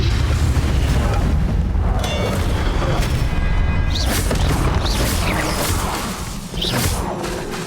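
Confringo blasting spells explode during a Hogwarts Legacy boss fight, heavy booms and whooshing impacts rolling one after another, loud and dense, with brief voices mixed among the blasts.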